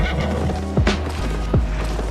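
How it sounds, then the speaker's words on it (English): Horse in a video game whinnies twice with falling neighs, over a steady backdrop of hoof clip-clop and game ambience; close and moderately loud. "We're gonna mount back up and move the horse."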